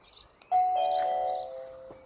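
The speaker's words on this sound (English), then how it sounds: "you can hear that the chime is connected and working" A Honeywell doorbell chime, triggered by a Nest Hello video doorbell, sounds one clear ding-dong close by indoors. The bright tones ring out and fade slowly, with no talk.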